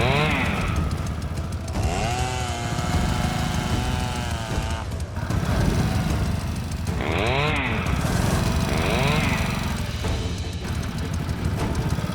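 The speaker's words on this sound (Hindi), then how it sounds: "बाइक स्टार्ट कीजिए।" A motorcycle engine runs steadily throughout, with a loud continuous drone, while background music with singing plays over it.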